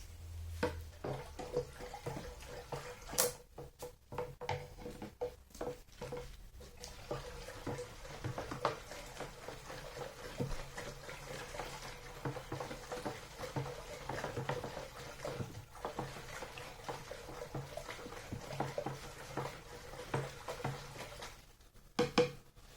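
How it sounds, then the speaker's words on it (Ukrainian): Iron sulfate solution being stirred in about 20 liters of water for autumn garden spraying, continuous swishing and sloshing with occasional clinks and splashes, close and fairly quiet, with no talk. "І ще гарненько розмішуємо."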